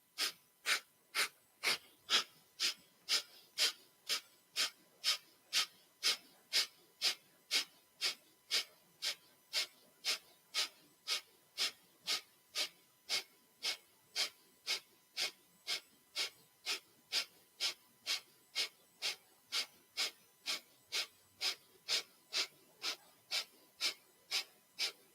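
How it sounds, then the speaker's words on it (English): Yoga breath of fire: rapid, forceful rhythmic breathing, sharp nasal exhalations repeating at an even pace of roughly two per second for the whole stretch, close and alone with no talking. "use the breath of fire as your fuel and as your power today"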